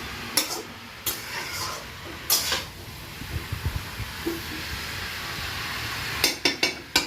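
A spoon stirs cabbage cooked with koi fish in a pan, giving a few clinks and scrapes against the metal over a soft, steady sizzle and hiss.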